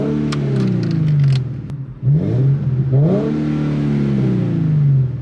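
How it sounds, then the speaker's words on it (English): A 240SX drift car, limited to revving no higher than 4,000 rpm, revs up and drops back in two or three sweeping pulls, loud and close, with a deep rumble between them and no talking. "I'm gonna rev the engine right now and then you guys will be able to hear it"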